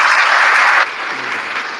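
A crowd applauds in dense, steady clapping that stays loud for nearly a second, then drops abruptly to a quieter, thinner patter that carries on to the end.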